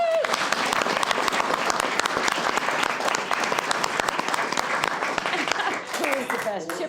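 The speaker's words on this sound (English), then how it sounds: "give them a round of applause" Loud, sustained applause fills the room for city departments at an Oldsmar city council meeting, with voices audible through the clapping and speech emerging as it tapers off at the end.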